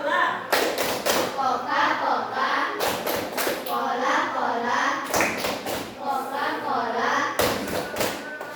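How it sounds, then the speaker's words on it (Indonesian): Children clapping the Coca-Cola clap rhythm in a classroom, sharp patterned bursts of hand claps between chanted lines, repeating several times. "Masih ingat tepuk Coca-Cola?"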